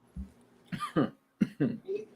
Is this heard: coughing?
yes